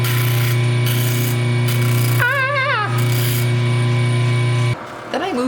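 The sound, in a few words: flex drum sander sanding wood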